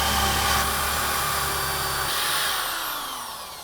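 Power drill boring a deadbolt hole through a door with a bit guided by a jig, a loud steady whirring grind that runs continuously and then gradually winds down and fades.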